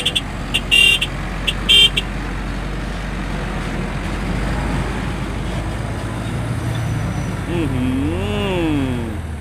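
A convoy of new HINO Dominator FC9J 210 trucks rolls past on a road with a loud, broad engine and road rumble. Two short horn toots sound early, and someone speaks briefly near the end.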